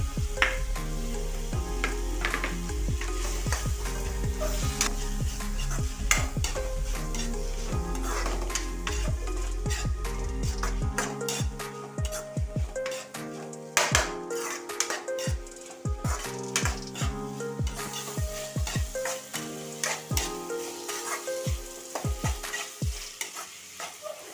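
Chopped green chilies fry in a pan for a prawn and coconut roast, with a constant sizzle and rapid, clattering stirring strokes. A tonal musical backing runs underneath.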